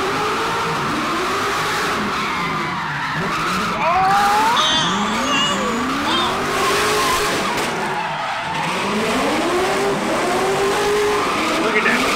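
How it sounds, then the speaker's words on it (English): A car power-skids with squealing tires and a rising, falling engine rev, the screeching whine sweeping up and down in several loud passes while excited voices talk over it. "Look at that power skid on him, bro."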